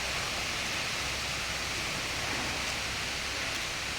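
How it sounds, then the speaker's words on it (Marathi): Steady rain falls outdoors on a farm, a dense, even hiss of drops that runs unbroken and fairly loud from start to finish, with no voices over it. "दूध पितोय पाऊस वरून चालू आहे"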